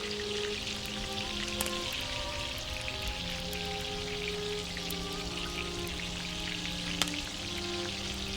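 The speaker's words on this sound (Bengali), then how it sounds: "একে একে পটলগুলো ছেড়ে দেব। তারপর পটলগুলো ভালো করে ভেজে নেব।" Pointed gourd (potol) pieces frying in hot mustard oil in a kadai, giving a steady, even sizzle and crackle close by that runs without a break, with music tones over it and no talk.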